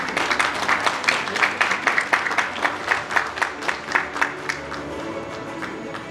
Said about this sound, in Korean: 성공적인 미래를 약속하는 투자 협약식 여러분께서도 박수로 함께 응원해 주시기 바랍니다.